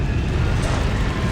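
A Confringo fire spell goes off in the video game Hogwarts Legacy with a loud, dense burst of fiery rumble that fills the whole moment, close and continuous.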